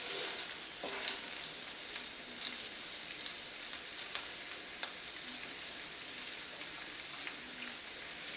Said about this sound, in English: we're going to melt our butter into the sausage